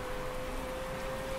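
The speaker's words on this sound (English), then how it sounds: "at least it's raining to put it out" Steady rain falls during a race in the Motorsport Manager video game, a soft, even hiss under a faint constant tone, with no voices heard.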